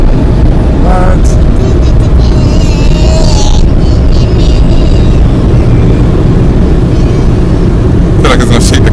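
Automatic car wash machinery rumbles loudly and continuously around a car from inside the cabin, a dense roar with spraying hiss, while people talk and exclaim over it.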